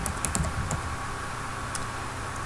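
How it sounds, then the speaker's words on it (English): Fingers tap at a computer keyboard, typing and backspacing in a quick cluster of clicks at first, then a few sparse keystrokes over a faint steady hum, close and alone. "if you make a mistake, you simply backspace or delete."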